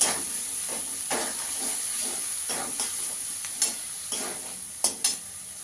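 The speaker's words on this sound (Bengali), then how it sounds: "ভালো করে মশলাটাকে কষিয়ে নিতে হবে।" Kashmiri chili powder and turmeric masala sautéed in a pan, a soft steady sizzle and hiss broken by repeated scraping stir strokes, a few sharper clinks near the end.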